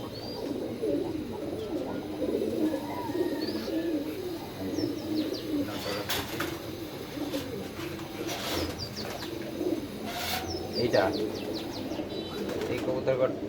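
Several pigeons kept for sale coo in a low, continuous murmur close by, with occasional chirps and wing flaps breaking through.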